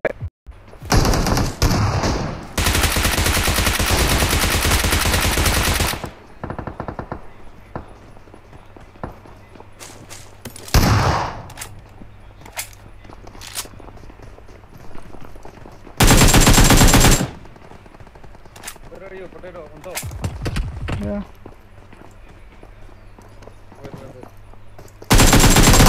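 Loud bursts of shotgun and machine gun fire in a video game come in several long sustained volleys separated by quieter stretches of footsteps and game noise, with players talking in between.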